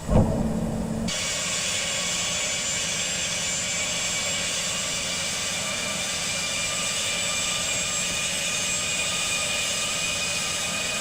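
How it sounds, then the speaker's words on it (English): Landing gear extending on a Challenger 350 in the Infinite Flight game, a sudden mechanical shift after a second, then a steady loud cabin engine drone throughout with no talking. "Alright, with that, our gears are coming down."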